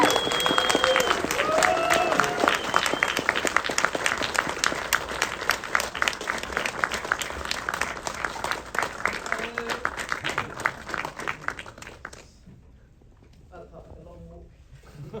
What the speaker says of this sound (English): They sustained the applause though